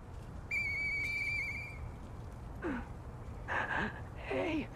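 A high sustained whistle from the video game Lies of P, followed by shorter wavering whistle tones over a steady low background rumble, with no talking.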